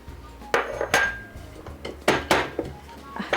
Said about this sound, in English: This is my fresh compot pepper, so I have to smash it here for my